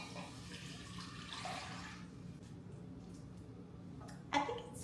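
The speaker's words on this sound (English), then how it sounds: "So I'm just gonna add the 3 cups of water." Water is poured from a container into a cooking pot of aromatics on the stove, a steady close splashing pour that fades after about two seconds, followed by faint clinks.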